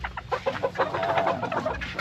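A Serama, a tiny chicken breed, clucks in a quick, fairly soft rhythmic series of short notes close by, with other fowl faintly around and no one speaking.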